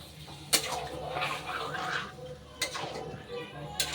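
Water splashes into a pot of spiced mutton from a bowl, with brief metallic clinks of the bowl against the pot and soft stirring and sloshing, close and fairly quiet.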